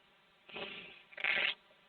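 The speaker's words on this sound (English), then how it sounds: "you can hear me shuffling a little bit" Tarot cards being shuffled by hand, two short soft riffling bursts close to the microphone in an otherwise quiet room.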